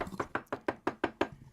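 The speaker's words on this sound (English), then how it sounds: "knock on the door really loud by the microphone" Loud knocking on a door close to the microphone, about eight sharp, evenly spaced raps in quick succession with no voices over them.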